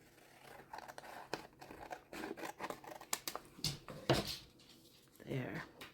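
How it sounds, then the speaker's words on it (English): Scissors cutting the bottom off a mixed media art piece make quiet, close snips in a loose irregular rhythm, mixed with light paper crinkling and scraping. "One thing I could do to fix that is just cut the bottom off."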